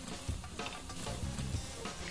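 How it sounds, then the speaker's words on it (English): Vegetables and garlic sizzling in a pan while being stirred, a soft steady hiss with a few low knocks of the spoon against the pan. "And just keep stirring until the vegetables all kind of soften."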